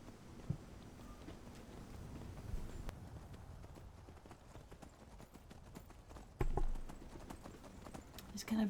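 Horse hooves clip-clop at a steady walking rhythm while riding in the video game Skyrim Special Edition, moderately close, with a louder thump near the end and no voices.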